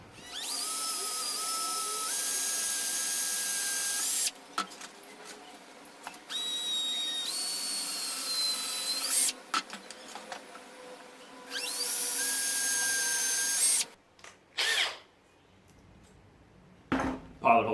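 A power drill boring a pilot hole straight down for a DIY split router table fence, whining in several sustained bursts with short pauses between, loud and close, alone without talk.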